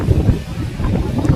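Strong wind blows at the seashore at Somnath, buffeting the microphone with a loud, continuous low roar and surf-like rumble, with no voices heard.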